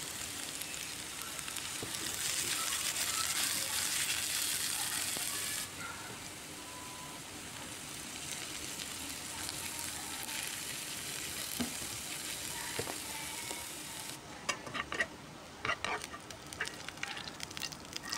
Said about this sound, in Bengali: এবার ওই তেলে দিয়ে দিচ্ছি থেতো করা রসুন। একদম লাল লাল করে ভেজে নিতে হবে।